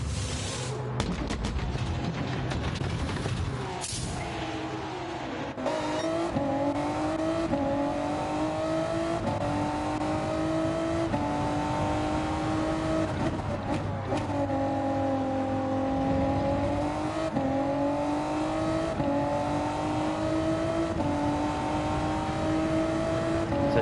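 A race car in the Gran Turismo 7 video game drives at Autopolis. The engine whines loud and continuous, climbing through the gears in repeated rising sweeps with short dips at each shift.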